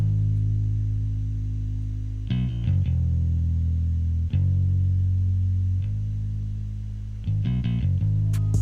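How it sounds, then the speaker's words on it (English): A Rickenbacker bass sound on a hammerhead setting with light EQ plays a deep, sustained bass line. The notes are long and held, and a few quicker plucked changes break them up. It is loud, close and alone. "This is Rickenbacker bass on the hammerhead setting"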